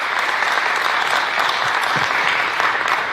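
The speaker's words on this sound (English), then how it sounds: "So give yourselves a pat on the back and a round of applause," An audience claps at an airport groundbreaking ceremony outdoors at PDK Airport, a dense, even round of applause that holds steady and loud throughout.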